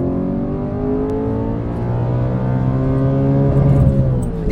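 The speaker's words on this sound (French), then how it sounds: "Et ce rupteur là il est incroyable." An Audi RS4 B7 with Stage 1 tuning revs hard against its rev limiter, a loud, close engine drone that holds and climbs in pitch before stuttering at the cutoff.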